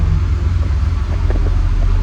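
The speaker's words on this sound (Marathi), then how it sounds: "गाडी झालेली आहे चालू" A car engine idles just after being started, a loud, steady low rumble throughout with no talking.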